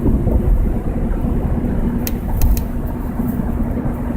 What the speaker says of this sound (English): I'm driving out to my dad's